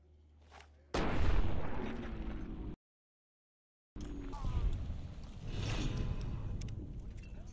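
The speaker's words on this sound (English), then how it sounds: "Those are silenced bullets!" Silenced gunshots in the video game Fallout New Vegas, heard as muffled bursts of shooting in two loud stretches separated by a sudden silent gap.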